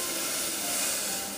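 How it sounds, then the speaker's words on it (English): Green beans and a potato cooking in a covered pot on a high simmer give off a steady, soft hiss of steam and bubbling, even and continuous throughout. "cook it on a high simmer. I can hear it."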